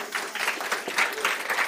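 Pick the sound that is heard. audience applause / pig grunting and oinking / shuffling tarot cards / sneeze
audience applause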